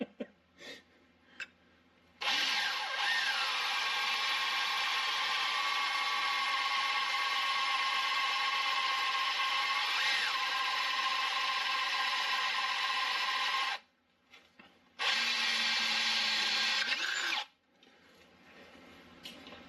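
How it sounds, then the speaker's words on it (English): A loud, steady high-pitched power drill whine, drilling into a 1930 Ford Model A engine block, runs continuously for about eleven seconds, stops briefly, then returns in a shorter burst. "Drilling into a engine block doesn't make you feel good, honestly."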